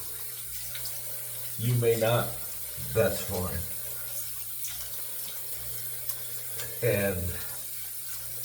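Hot water runs steadily from a tap into a sink during a wet shave, a constant hiss under intermittent speech.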